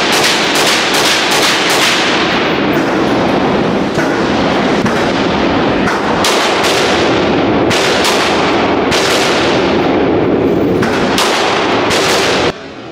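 Rifle fire at a shooting range: loud, sharp cracks repeat every second or so over a constant roar of nearby shots, with no gaps until a sudden cut at the end.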